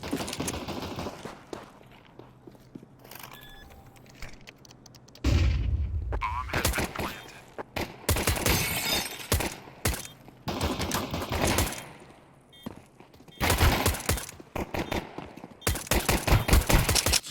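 Dual pistols firing in Counter-Strike 2, played in mid, with bursts of rapid shots and clustered volleys through most of the stretch, loud and close, with some quieter gaps and speech mixed in.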